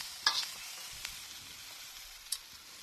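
Spring onion frying with blue swimmer crabs in a wok, a soft, faint sizzle with a few sharp clicks and scrapes of stirring, no talking.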